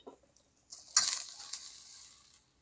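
Onions sizzle in a pan as butter is added, a sudden bright crackling burst that starts quietly, jumps up near the one-second mark, then fades gradually over the next second and a half.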